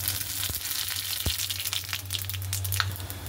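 Radhuni seeds tempering in hot oil in a kadai, a crackling sizzle with scattered pops and a couple of sharp clinks over a low steady hum.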